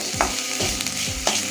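Chilli powder masala for an avaraikkai and mochai stir-fry is sautéed in a pan: a few close spoon scrapes land in a slow rhythm over a constant frying sizzle.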